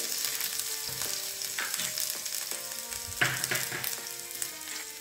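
Cumin seeds and chili paste sizzling in already hot oil for Rajasthani gatte ki sabji, a steady close frying hiss with crackles and brief stirring scrapes, no talking.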